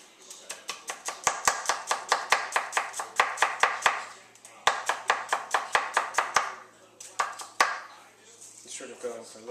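A knife cuts a shallot into thin strips on a board in a fast, steady run of crisp close-up chops with brief pauses between bursts, no voice over the cutting.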